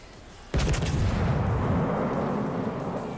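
The Roma battleship's main guns fire in World of Warships as one heavy booming salvo with a sharp onset, then a long deep rumbling roll that stays loud to the end.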